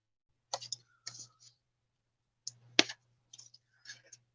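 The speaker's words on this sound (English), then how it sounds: "Snip a little more" Scissors snipping during craft work: about five short, crisp, quiet cuts spaced out, some in quick double snaps, with silence between.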